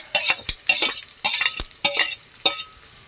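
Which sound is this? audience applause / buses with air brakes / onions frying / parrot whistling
onions frying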